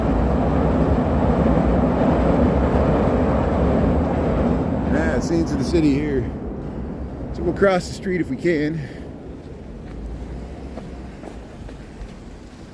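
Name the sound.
Chicago Brown Line elevated train passing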